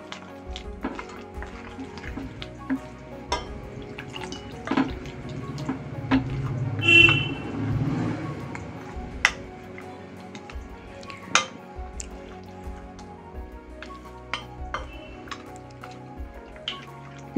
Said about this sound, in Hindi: मिक्स करके बैटर बना लूँगी